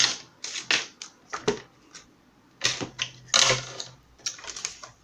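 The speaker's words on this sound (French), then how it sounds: "Je vais couper mon papier." Paper cut with scissors while making a shabby chic greeting card, giving irregular crisp snips and rustles in short bursts at close range, with no talking.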